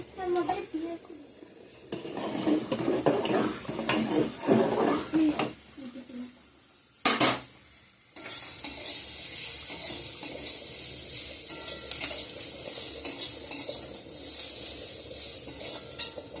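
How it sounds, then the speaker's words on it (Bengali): Potatoes frying and being stirred in a pan, with scraping and clinking from a utensil under talking at first, then a steady, bright sizzle carrying on alone. "আলু ভাজা করছি বন্ধুরা"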